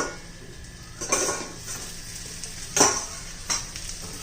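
Stuffed bell peppers fry in a covered pan over very low flame, giving a steady soft sizzle with a few brief louder bursts of crackle or utensil contact; no talking.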